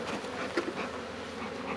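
Honey bees returning from almond groves buzz in a dense, continuous hum close by, many wings overlapping with a few louder individual passes rising briefly above the drone.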